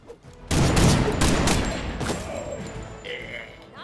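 A sudden loud volley of gunfire in the Midnight Suns video game, bursting in after a brief quiet start and tailing off into rumbling debris with a faint ringing tone.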